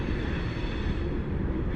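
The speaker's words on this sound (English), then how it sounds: "And I hear trains." A steady, heavy low rumble of a train rolling along the tracks, constant and fairly distant, with no voices.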